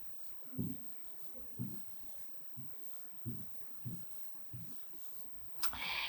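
Marker strokes writing a word on a board, a series of short scratchy squeaks in uneven bursts, roughly eight strokes, close and quiet with a brief louder tap near the end.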